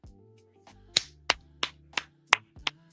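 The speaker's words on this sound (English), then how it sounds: "We clap." Six sharp hand claps ring out at a moderate, slightly uneven pace, close and crisp, against a low background hum with no talking.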